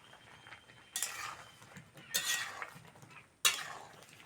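Boiled amla (Indian gooseberries) being gently stirred in a pot, heard as three separate scraping clinks of a utensil over quiet background, with no speech.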